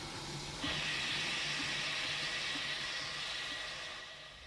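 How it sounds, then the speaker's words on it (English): Steam whooshes and hisses from a train engine. A steady, fairly soft hiss swells suddenly near the start, holds, then slowly fades. "Thomas tried to whoosh some steam at him."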